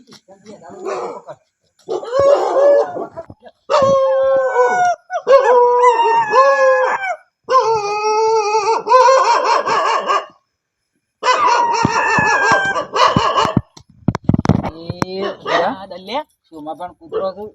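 A dog gives long, wavering howls in repeated loud bursts of a second or two each, separated by short pauses and mixed with a few sharper barks, heard close up.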